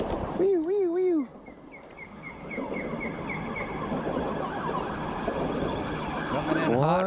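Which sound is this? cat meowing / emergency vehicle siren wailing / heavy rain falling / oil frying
emergency vehicle siren wailing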